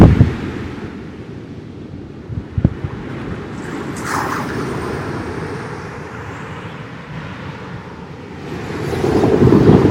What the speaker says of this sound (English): The ocean is a little bit loud today